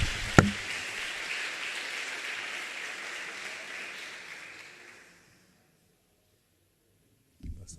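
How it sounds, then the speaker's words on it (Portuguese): Church congregation applauding, a steady wash of clapping after one sharp knock, thinning out and stopping, then a brief thump at the very end. "Se você entendeu, pode aplaudir o Senhor"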